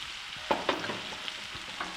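Oil sizzles steadily in a pan as peppers fry, with a few sharp crackles and the scrape of stirring standing out.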